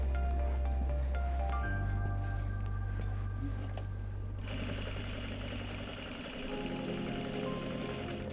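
A sewing machine stitching a shop apron runs continuously with a steady mechanical hum and whir, shifting pitch and getting brighter about halfway through as the speed changes, close and loud throughout with no talking.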